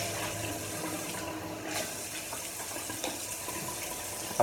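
Tap water running steadily into a sink during a traditional wet shave, a soft continuous splashing hiss at low level, with brief small knocks and no talk.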